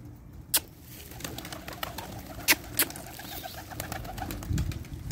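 Pigeons coo softly in a home loft in Saudi Arabia. Sharp clicks and flutters cut through a steady low background, with a faint coo close by near the end.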